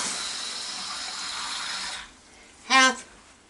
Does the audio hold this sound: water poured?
yes